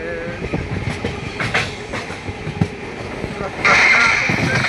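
Inside a train travelling from Bengaluru, a steady rolling rumble carries faint rhythmic clatter of the wheels, growing louder and brighter toward the end, with voices around it.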